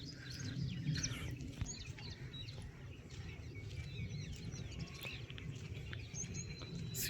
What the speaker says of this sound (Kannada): ಈ ಎಲ್ಲ ಪಕ್ಷಿಗಳು ಎಲ್ಲ ಗೂಡಿಗೆ ಹೋಗೋ ಟೈಮು